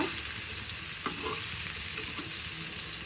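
Mangalore-style chicken fries on a flat tawa, giving a steady, close, even sizzle with faint stirring scrapes and no voices.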